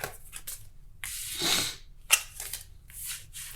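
Tarot cards are shuffled by hand in a quiet room, making soft, papery riffling bursts that come in several irregular bouts, close and moderately quiet.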